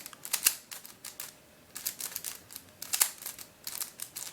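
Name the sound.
twisting a puzzle cube to test corner cutting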